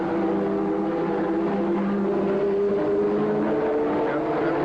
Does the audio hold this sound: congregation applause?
no